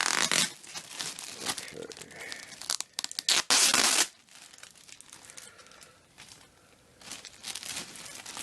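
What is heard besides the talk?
tearing tape off a package while unboxing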